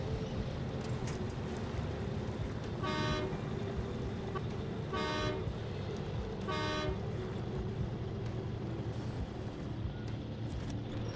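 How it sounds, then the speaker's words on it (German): In the SnowRunner video game, a truck horn that sounds like a train horn blasts three times in short, spaced honks, loud over a low, steady engine rumble. "Meine Hupe hört sich irgendwie an wie so eine Zughupe."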